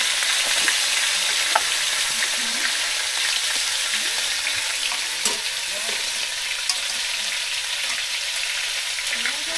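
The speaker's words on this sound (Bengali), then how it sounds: "এখানে মা মাছ ভাজছে।" Fish fries in a pan with a steady, dense sizzle that carries evenly throughout, punctuated by small pops and faint clinks of stirring, close and fairly quiet with no one talking.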